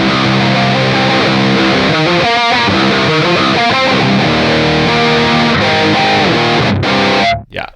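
Saturated, buzzy distorted electric guitar in a metalcore tone from the BIAS FX 2 amp-modelling plugin, loud chugging riffs and held chords with rhythmic palm-muted bursts, ending abruptly.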